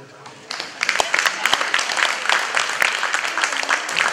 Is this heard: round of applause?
yes